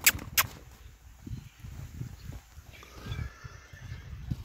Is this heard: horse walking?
yes